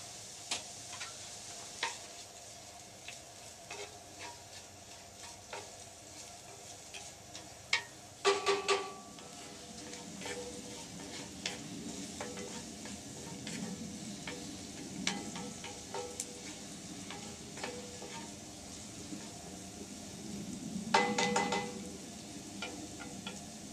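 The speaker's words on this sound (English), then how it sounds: "get our onion sauteing first. And that's about half of a medium onion." Half a medium onion sautéing in a pan gives a continuous soft sizzle, with faint scattered ticks from the utensil and two brief louder clatters, close and quiet, and no one speaking.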